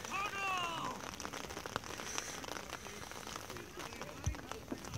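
Rain falls steadily over an outdoor bantam youth football game between Ponoka and Wetaskiwin, a constant hiss and patter of drops beneath a commentator's voice.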